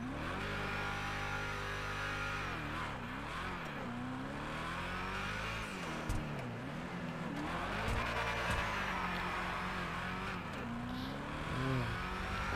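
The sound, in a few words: Vapid Hustler car engine revving in video game GTA V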